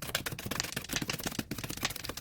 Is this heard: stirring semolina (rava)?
no